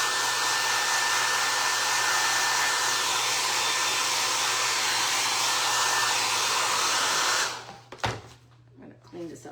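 A hair dryer running loud and steady, close up, while it dries a Dollar Tree candlestick makeover. It cuts off near the end, leaving brief handling noise and a voice.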